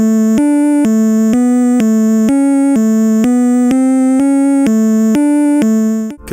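Game Boy wave channel playing a buzzy, hollow synthesized tone from a 32-byte waveform, a sequence of about a dozen short evenly spaced notes stepping up and down in pitch, loud and clean, ending abruptly.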